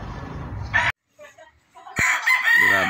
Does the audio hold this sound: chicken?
yes